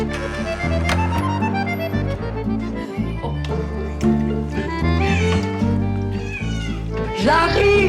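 A cat meows repeatedly and loudly, close by, with drawn-out wavering cries over background music and a few other sounds.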